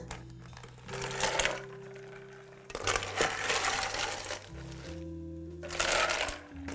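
Ice cubes dropped into a glass of minty blueberry lemonade, loud clattering and crunching rattles in three bursts with short quiet gaps, close by.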